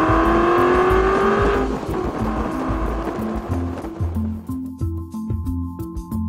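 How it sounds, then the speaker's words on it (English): A 2010 Aston Martin convertible's V8 engine revs hard, then drops through gear changes into a rumbling, throbbing cruise, loud and close throughout with no talking. "you'll be able to hear more of that excellent V8 engine noise"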